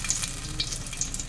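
Dry red chilli and bay leaves sizzle in hot oil as a tempering for cooked dal, a soft steady crackle with a few brighter spits, heard briefly and close with no talking.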